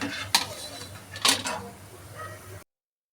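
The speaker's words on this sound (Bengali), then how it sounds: "আওয়াজটাও তোমাদের শুনিয়ে দিচ্ছি কতটা মুচমুচে হয়েছে" Crispy fried titkumari flower fritters (bora) handled in a pan with a utensil, two sharp crackling, scraping clatters standing out over a quiet background, close and fairly soft.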